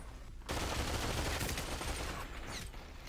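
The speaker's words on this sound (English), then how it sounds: "Oh, dude's getting shot." Dense rapid gunfire from the VR shooter Population: ONE, a loud continuous fusillade starting abruptly after a brief pause and running to the end.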